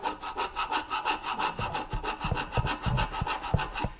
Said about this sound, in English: Literally scraping hard.